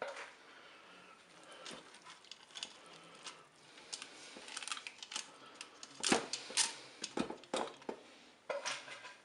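Dry spaghetti being snapped into the bowl of a Cookeo multicooker, giving a string of sharp, close cracks and clicks that come more often toward the end.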